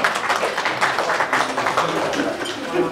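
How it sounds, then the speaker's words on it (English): An audience claps together at a charity gala for asthma at the London Hilton, Holland Park, a dense, even burst of applause that stays close and fills the whole stretch. "clap for yourselves"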